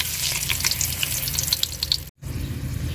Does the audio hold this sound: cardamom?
yes